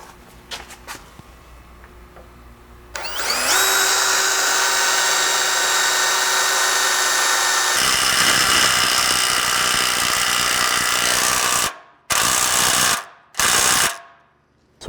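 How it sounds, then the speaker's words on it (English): A power drill bores a 7/16-inch bottom mounting hole for a rock slider on a Ford Bronco, a loud steady whine and grind of bit through steel running about nine seconds, then several short bursts as the trigger is pulsed. "drill this bottom mounting hole to 7/16"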